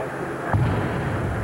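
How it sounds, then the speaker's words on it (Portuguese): A single gunshot from the salute at Ayrton Senna's funeral procession to Morumbi cemetery booms once in the distance, a muffled report rolling over steady crowd and outdoor noise. "O segundo tiro"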